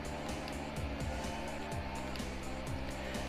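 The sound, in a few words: Hamilton's F1 car passing by in the video game F1 2017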